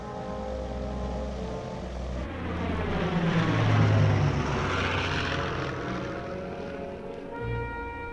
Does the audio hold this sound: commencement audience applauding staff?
no